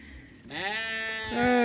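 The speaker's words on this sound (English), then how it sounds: "Oh, the sheep don't like it when I feed the pigs first." Sheep on an off-grid homestead farm bleat loudly and close, one long wavering call overlapped by a second, stronger bleat near the end.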